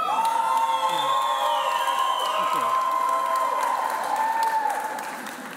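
A graduation ceremony audience applauds and cheers: dense, steady clapping fills the hall with scattered whoops and shouts, holding loud for about five seconds before easing off slightly at the end.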